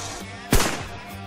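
A single shotgun blast at a shooting ground in Cheshire, a sharp loud report with a short rumbling decay, heard alone against faint outdoor background.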